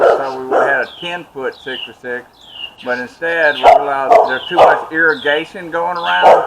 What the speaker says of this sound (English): You hear the dogs barking in the background.